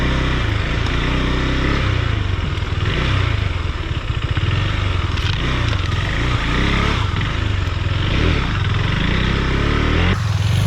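Husqvarna Svartpilen 401 motorcycle ridden off-road on small hills in the woods, its engine droning steadily and loudly throughout with a rough, rumbling low end, brief revs and some clattering, close to the rider and without talk.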